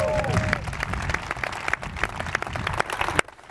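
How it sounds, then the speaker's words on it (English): An audience claps for Margaret at a Chicago community event, applause running steadily for about three seconds before it cuts off abruptly. "And how about a round of applause for Margaret?"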